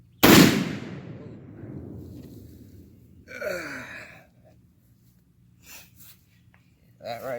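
A small but powerful firearm is fired once into magazine body armor, giving a sharp, loud crack with a lingering ringing decay, followed by gasps, breaths and short bursts of voices.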